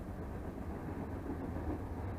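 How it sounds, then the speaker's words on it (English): A train rumbles past in the distance, a low and steady roar with faint clatter that holds even throughout, quiet and with no voices. "And you can listen to the train while we do it."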